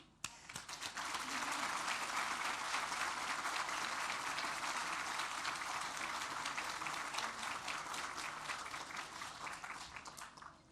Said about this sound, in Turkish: sadece Kemal'i alkışlamak istiyorum